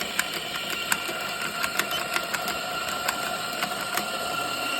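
A Pasquini espresso grinder runs with a steady mechanical whir and faint rattling ticks, close and fairly quiet, with no talk.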